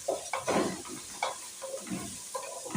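Rice stirred and sizzling in a frying pan while pea and red-meat stew is being made, with repeated scraping strokes over a steady crackle, fairly close, no talk.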